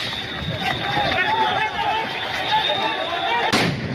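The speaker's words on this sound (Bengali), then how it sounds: "আবারও একের পর এক সাউন্ড গ্রেনেড ছোড়া হচ্ছে" Sound grenades are fired during a street clash in Dhanmondi, Dhaka, over a continuous roar of crowd noise, with one sharp, loud blast near the end.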